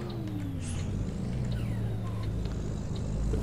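A simulated Volvo truck in Euro Truck Simulator 2 engine-braking as it downshifts: a continuous deep rumble with engine tones sliding downward, steady and close. No one speaks.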